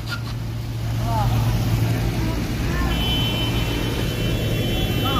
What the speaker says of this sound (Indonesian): Yang menggunakan penggerak roda depan guys, selip.